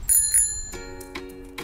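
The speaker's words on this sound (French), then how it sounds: "quand je fais la sonnette, tu arrêtes ton vélo" A bicycle bell rings several times in quick bursts during a group cycling outing, its bright metallic chimes clear and close with a lingering ring after each strike.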